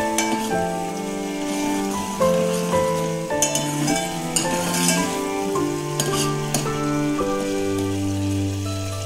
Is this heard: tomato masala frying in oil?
yes